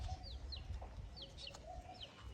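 Chickens and a rooster at a chicken coop on a small farm in Ghana give soft, scattered clucks over a steady outdoor hum, moderately distant and never loud.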